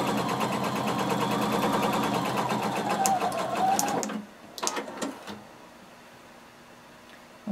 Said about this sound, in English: we're going to stitch our inseam using 5/8 of an inch seam allowance